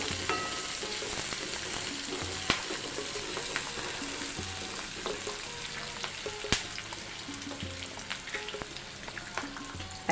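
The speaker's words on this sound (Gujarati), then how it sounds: "આખો ગરમ મસાલો લીધેલો છે લવિંગ લીધેલા છે મરી છે તમાજપત્ર છે તે આપણે કાંદાની સાથે તેને પણ સાથળી લઈશું" Whole garam masala spices, cloves, black pepper and bay leaf, sauté with onions in a home kitchen pan for a cashew paneer curry, giving a steady close sizzle with occasional stirring clicks and scrapes throughout.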